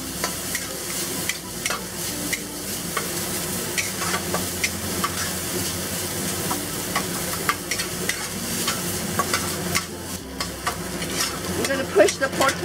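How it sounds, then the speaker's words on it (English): Pork crisps and browns in a hot pan with dark soy for a Sichuan-style dry-braised dish. Close, busy sizzling is broken by repeated scraping and clattering stirring strokes, with no speech. "we're going to continue cooking this until the pork crisps up and browns nicely"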